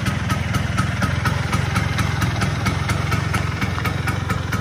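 A Vespa PX scooter engine idles smoothly with a steady, even low putter and regular pulsing firing beats, close and continuous without talking.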